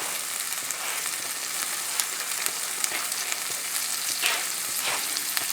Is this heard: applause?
no